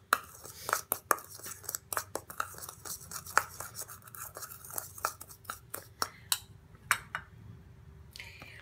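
Drops of oil and honey stirred together for a homemade face scrub, heard as a run of sharp clicks and taps of a utensil against a small bowl in an irregular rhythm, close and fairly quiet, with no talk.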